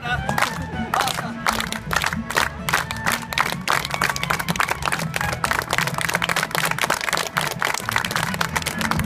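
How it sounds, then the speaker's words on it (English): A festival crowd at the Seattle Folklife Festival claps in unison, sharp, regular claps that gradually quicken, with cheering and a voice over them. "give me a slow hand clap"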